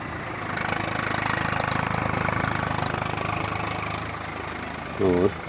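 A tractor engine ploughing a field in a rural hill area of India, a steady mid-pitched rumbling drone that holds constant, then rises in a brief louder revving burst near the end.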